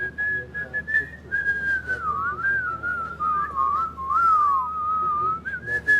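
A person whistles a wandering, wavering melody close by, clear and fairly loud, with soft background murmur beneath the tune.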